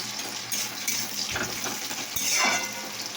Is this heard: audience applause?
no